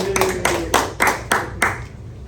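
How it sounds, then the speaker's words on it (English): A small audience at a community meeting claps in five or six sharp, evenly spaced bursts, close and fairly loud, then it fades out. "clap up for Brian, all right."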